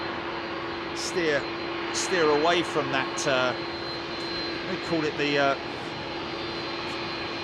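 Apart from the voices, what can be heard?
Boeing 737 MAX jet engines at Heathrow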